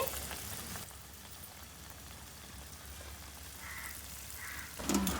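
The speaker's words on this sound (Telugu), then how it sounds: "మొత్తం అరిసెలు అరిసెలన్నింటినీ ఇలా వేసేసుకుందామండి లో టు మీడియం ఫ్లేమ్లో పెట్టి మనం వేయించుకుందామండి" Arisalu, rice flour sweets, frying in oil in a pan over a low to medium flame, a steady soft hiss and bubbling like light rain, even and moderately close, with a brief louder clatter at the end and no speech.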